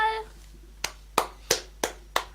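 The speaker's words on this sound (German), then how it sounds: "Applaus." A few sharp hand claps, five distinct slaps spaced irregularly, close and fairly loud after a brief tonal sound at the start, during a casual gaming session.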